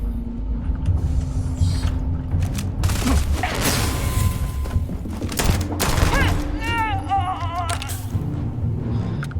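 A firefight in Starfield brings a dense burst of gunfire with sharp cracks and whining effects over a low rumbling background, and voices speak during it.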